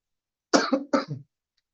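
Two harsh, close coughs in quick succession, loud and dry, followed by silence.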